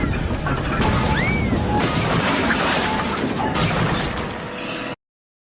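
A loud crash of a train slamming into a freight car, with clattering metal and debris that rumble on for several seconds before cutting off.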